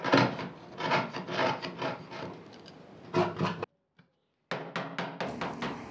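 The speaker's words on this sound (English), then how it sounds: "last part for the tenons is just basically to pare out the last remaining waste" Hand tools pare waste from wooden tenons on a bookcase, giving repeated short rasping, scraping strokes in quick rhythm, close and fairly quiet, with a brief silent pause partway through.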